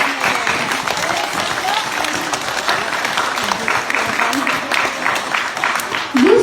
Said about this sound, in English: You all deserve our loudest applause.